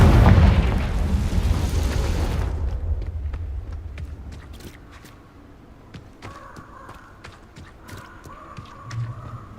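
A Confringo spell goes off in Hogwarts Legacy with a loud, rumbling blast that fades over a couple of seconds, followed by scattered small clicks, thuds and debris sounds.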